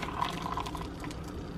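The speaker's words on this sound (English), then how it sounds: "I pour very slowly in a circular-y pattern." Hot water poured slowly into a Chemex coffee maker, a soft continuous trickle and gurgle, close but faint, with no talk.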